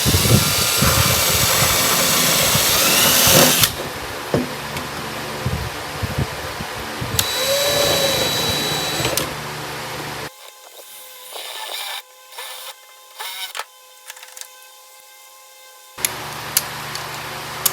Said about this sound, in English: That spot weld drill bit worked pretty good on there.